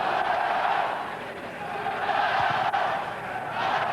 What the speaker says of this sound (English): That's really set the Manurewa crowd alight here at Mount Smart Stadium